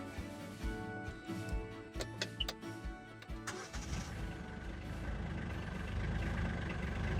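A Kioti K9 UTV engine turns over and catches, shifting from uneven mechanical clatter into a steady, close, rumbling idle that grows slightly louder by the end.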